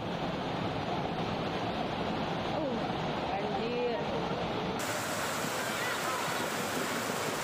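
Overflowing river floodwater rushes past homes after heavy rain in a hillside village near Bogor, a loud, steady roaring wash that is continuous throughout, with a voice speaking faintly over it.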